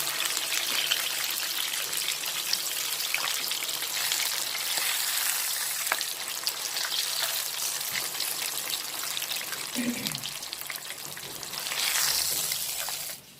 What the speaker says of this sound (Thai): เนื้อปลานะคะทอดประมาณนี้นะคะกรอบนอกนุ่มในนะคะ